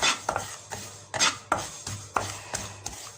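White and black sesame seeds dry-roasting in a pan, stirred with a utensil in repeated scraping strokes, roughly one every half second, with light crackle between them and no talking.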